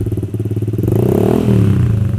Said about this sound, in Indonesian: Nah jadi kayak gini suara knalpot respeed custom, kayak gini suaranya.